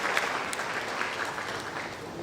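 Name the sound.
audience applause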